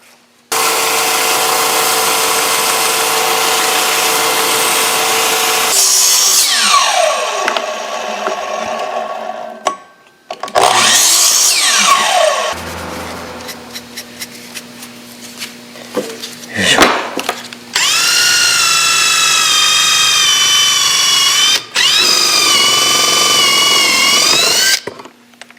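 Power saw roughly cutting wooden boards for a spice rack, several loud sustained cuts with whining tonal passes and short pauses between boards, no talking.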